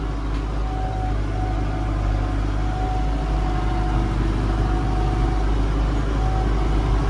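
Tractor engine running steadily while plowing a field, a continuous low rumble with a faint whine on top, heard alone throughout.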